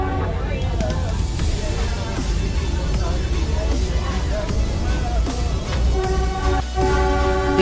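Darjeeling Himalayan Railway toy train running past shops and a vegetable market, a steady rumbling roll with a sustained horn tone near the end, over busy street bustle and voices.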